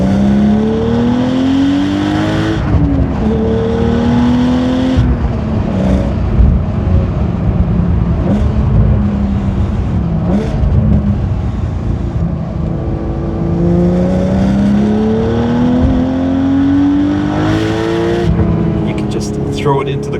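From inside a 500-horsepower turbocharged manual Porsche 911, the engine climbs and drops through repeated loud accelerating pulls that rise in pitch, with gear changes between them and continuous road roar, heard up close in the cabin.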